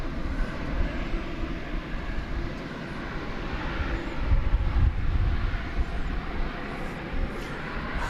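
A jet airliner taking off at DFW International Airport, heard as a steady broadband engine roar from a distance that swells slightly midway and holds without any talk.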